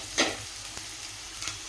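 Green chilli paste sizzles in a pan with frying onion, a quiet steady hiss marked by a couple of soft stirring scrapes, with no talk.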